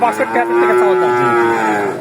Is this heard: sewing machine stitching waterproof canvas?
no